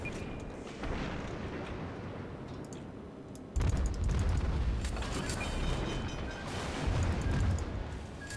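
Naval guns fire from a Russian tier 3 premium cruiser in World of Warships, heavy booms that roll into a continuous rumble of gunfire and impacts at moderate loudness.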